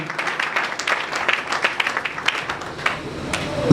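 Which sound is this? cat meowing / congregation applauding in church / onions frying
congregation applauding in church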